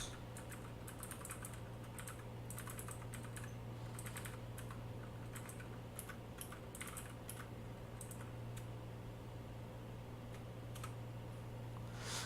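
Keys clatter on a computer keyboard in quick irregular bursts with short pauses, faint and close over a steady low hum.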